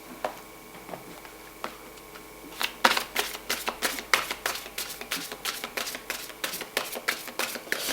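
Tarot or oracle cards are shuffled, starting with a few sparse flicks and then settling into a steady, close rhythm of crisp riffling snaps that runs to the end, with no voices.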